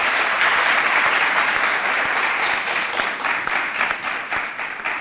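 A studio audience gives sustained, even applause at close range, dense clapping that keeps a steady level throughout and tapers slightly toward the end.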